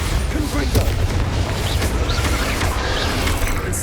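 Explosive Bombarda and Confringo spell blasts in Hogwarts Legacy, a run of booming, crackling bursts over a continuous roar of game noise, loud and close throughout.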